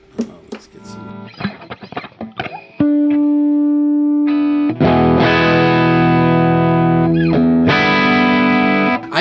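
Electric guitar fitted with a Bigsby vibrato, played through effects: a few scratchy picked notes, then loud, distorted, sustained chords ringing with wavering pitch, close and dominant, with no talking.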